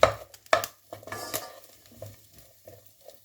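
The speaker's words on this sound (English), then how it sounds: "Just get the veg covered in the oil and give it a wee stir." Vegetables such as mushrooms and spring onions being stirred in oil in a pot for minestrone, with irregular scraping and clattering strokes of a utensil against the pan over a soft low background hum.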